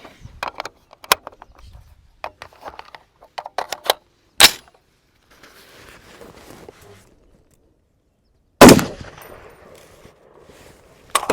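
A Ruger SFAR rifle fitted with a RIFLESPEED adjustable gas block fires a few sharp, loud shots outdoors, spaced seconds apart, with quieter clicks and handling noises between them.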